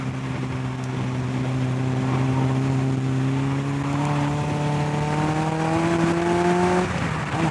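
Mazda MX-5 based MK RX-5 sports car driven hard, its engine note climbing steadily in pitch under acceleration as heard from inside the cabin, loud and continuous with wind and road rumble beneath.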